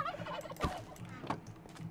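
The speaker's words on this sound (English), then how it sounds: "Well, it makes sense. They're turkeys." Turkeys in the Conquest Reforged game gobbling twice in quick, rattling bursts, fairly quiet and alone, with a soft wobbling call between them.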